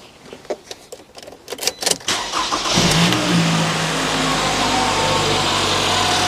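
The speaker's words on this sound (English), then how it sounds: "you're going to start your vehicle" A car's engine is started cold, with a few clicks and brief cranking before it catches, then settles into a steady, close idle hum that continues with no talking.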